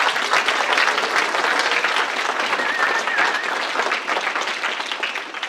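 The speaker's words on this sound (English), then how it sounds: "Big round of applause for her, please." A high school winter concert audience applauds their accompanist, a loud, full burst of sustained clapping from a large crowd that thins slightly toward the end.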